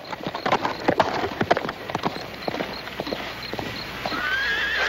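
Hooves clop unevenly on hard ground nearby, followed by a horse's high whinny near the end.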